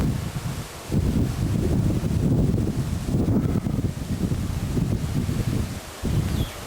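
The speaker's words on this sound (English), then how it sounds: "It's a very windy day today." Strong wind on a patio in Hawaii buffets the microphone in continuous roaring gusts, with rustling and brief lulls between blasts.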